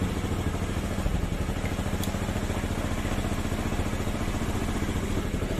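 A motorcycle engine idles steadily at close range, a continuous low mechanical drone with fine clatter that holds even and unchanged throughout, with no talking over it.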